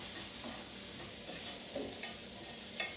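Green peppers cook in a hot pan for shrimp and broccoli, with a steady hiss of frying and a few soft stirring scrapes and clicks close by.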